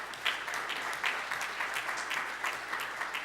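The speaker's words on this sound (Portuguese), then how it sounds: "Eu queria pedir uma salva de palmas ao Rogério." Audience applause at a ceremony honoring Brazilian Army Soldier's Day, a steady patter of many hands clapping, moderately distant and fairly even throughout.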